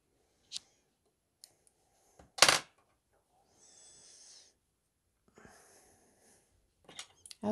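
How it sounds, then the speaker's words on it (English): Several sharp knocks and clacks of scissors set down on a hard table, scattered between quiet pauses, with a brief rustle midway. "I always forget about the scissors make such a loud noise on the table"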